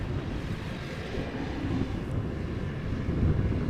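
A China Southern Cargo Airbus A350-900 taking off at Amsterdam Schiphol, a continuous low jet rumble with some wind buffeting, fairly even and moderately loud, with no talk.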